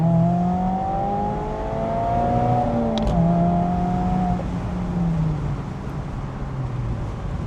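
A Mazda Miata ND3 engine accelerating under throttle from inside the car, a steady, fairly loud drone rising and falling in pitch through gear changes.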